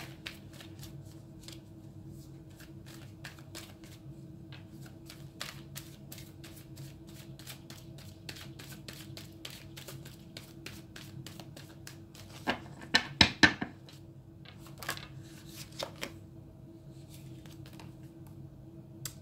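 Tarot cards shuffled by hand, a quick burst of crisp riffling clicks in the middle with a few scattered flicks before and after over a low steady room hum, no talking.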